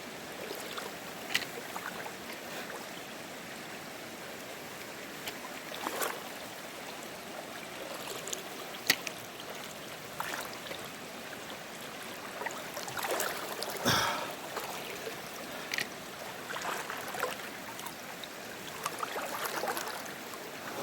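Wading knee-deep across a cold, rocky stream with slick rocks, steady close rushing and trickling water with sloshing splashes from the legs, and a few light bumps and breaths but no talk.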